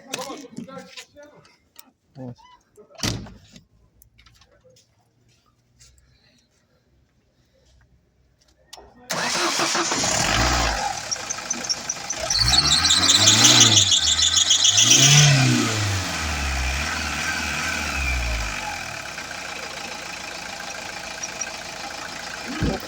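A few clicks and faint sounds, then a diesel engine running on vegetable oil instead of diesel fuel cranks and starts around the middle, settling into a loud steady rumbling idle with some revving.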